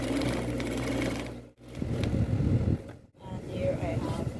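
A sewing machine stitches fabric for a knife pleated skirt with a steady low mechanical whir, briefly stopping twice, close by and running alone without talk.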